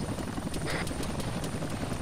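Military helicopter during a Marine joint training exercise, its rotor thumping in a steady rapid rhythm over a constant turbine roar, moderately loud and continuous.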